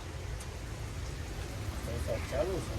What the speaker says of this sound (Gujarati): વરસાદ ચાલુ પણ અત્યારમાં થઈ ગયો છે